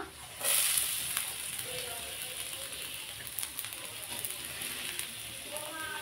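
Minced ginger and garlic sizzle steadily in hot vegetable oil, a bright close crackle starting loud at the moment they hit the pan and settling into an even hiss with scattered pops.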